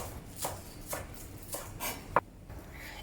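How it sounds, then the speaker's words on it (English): A kitchen knife cuts a scallion into thin rings on a cutting board, making about five evenly spaced, crisp chopping taps close by, with no voices. "Cut the scallion into thin rings."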